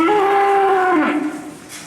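A single long, close and loud cow moo at Cockfields Farm Park, holding steady before sliding down and fading out.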